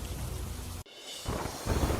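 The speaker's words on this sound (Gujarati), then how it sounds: "વડોદરા એક્સપ્રેસ હાઈવે પર ધોધમાર વરસાદ." Heavy downpour on the Vadodara Expressway under dark clouds, a dense steady roar of rain that cuts out briefly midway and then returns just as loud and continuous.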